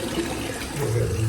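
Cold water runs from a bathroom tap during a straight razor shave, a short, loud, close rushing stream that deepens as it fills the basin.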